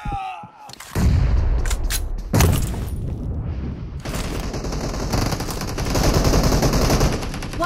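Rapid bursts of automatic gunfire and heavy booms in a team deathmatch practice match of a shooter video game, loud and dense, continuing almost without pause with sharp peaks throughout.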